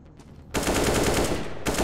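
In CS:GO, a loud, close burst of rapid automatic gunfire rattles on continuously for about a second. It breaks off briefly, then resumes.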